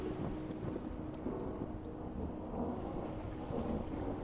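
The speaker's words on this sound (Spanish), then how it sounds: "Y de pronto comienza a llover." Steady rain hisses continuously at low volume, a dense even wash of sound with a faint low rumble underneath.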